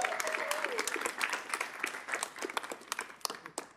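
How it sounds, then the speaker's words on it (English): An audience applauds throughout a nonprofit food-justice presentation, a dense wash of many hands clapping at steady volume that thins into scattered, sharper individual claps toward the end; a faint voice-like tone rises briefly near the start. "So give an applause for Emily for her leadership."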